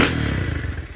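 A motorcycle fitted with an exhaust popper (estralador) gives a loud, close burst of rough exhaust rumble and clatter, with fast irregular thuds fading over one second.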